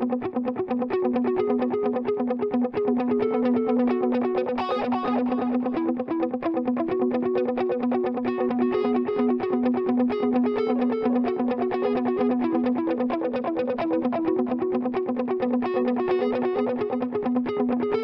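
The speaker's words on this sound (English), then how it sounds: "kick the wah on and then kind of shape it with the" Electric guitar run through a wah pedal and delay, a sustained effected tone with a steady low note and shifting upper harmonics, continuous and loud with no talking.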